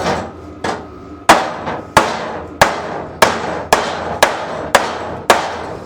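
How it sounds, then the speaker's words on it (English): A hammer strikes the welded metal frame of a race tractor about ten times in a steady rhythm. Each hit is a sharp, close, ringing clank. "Let's tap on it and hope we don't break more welds"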